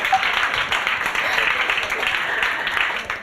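A seated audience in a hall claps steadily for a few seconds, dense, fairly loud applause with a faint voice blended underneath.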